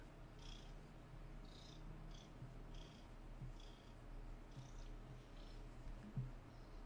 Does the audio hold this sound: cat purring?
yes